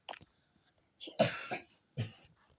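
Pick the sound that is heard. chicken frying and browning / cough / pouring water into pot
cough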